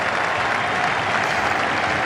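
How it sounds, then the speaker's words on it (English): A big cricket crowd at a T20 World Cup match between Australia and West Indies applauds, a loud, dense, continuous wash of clapping throughout. "I'm not surprised they're standing and applauding."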